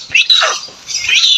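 Harsh, loud bird squawks up close, two rasping calls separated by a short pause, with no other sounds.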